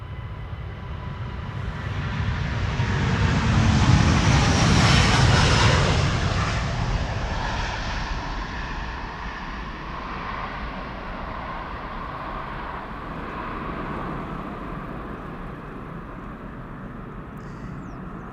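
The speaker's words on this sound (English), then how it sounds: "Delta Airlines Flight 49, A330neo going to New York JFK." A Delta Airlines Airbus A330neo jet departs Amsterdam Schiphol bound for New York JFK, its engines building into a loud, broad roar that peaks within seconds and then eases into a steady, distant rumble.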